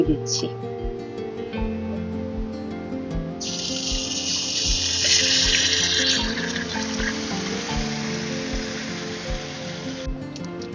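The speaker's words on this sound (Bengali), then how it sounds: "পেঁয়াজ রসুন ভালো করে কষানো হয়ে গেছে। এর মধ্যে ম্যারিনেট মাংস দিয়ে" Marinated chicken hits a pan of sautéed onion and garlic for lemon chicken, and a bright, steady sizzle rises and holds for several seconds under a voice and soft background music.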